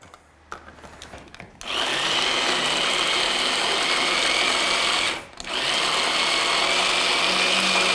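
A blender mixing olive oil into anchoïade, starting after a few clicks and then whirring loud and steady at close range, briefly stopping around the middle before whirring again until the end.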